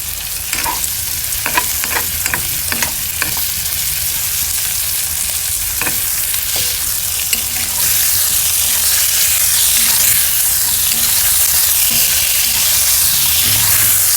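Garlic frying in a small amount of oil for chicken wing afritada: a steady, close sizzle with a few light stirring clicks early on, and the hiss grows fuller and brighter partway through.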